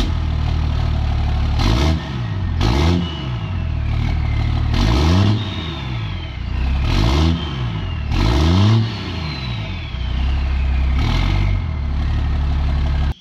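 A 1000-horsepower Cummins diesel race truck revs repeatedly through a 5-inch turbo-back exhaust, each rising roar dropping back to a deep rumbling idle, loud and near.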